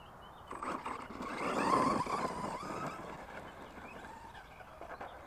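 An FS Racing 1/10 scale RC monster truck on a 3S battery whirs up to speed and flips over, its electric motor whine and tire scrabble rising then fading, moderately close with no voices.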